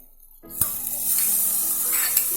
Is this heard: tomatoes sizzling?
yes